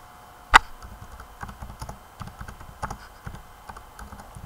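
Fingers tap out a short run of keystrokes on a computer keyboard while renaming a file, opening with one sharp louder key press followed by soft, irregular clicks, close and quiet with no talk.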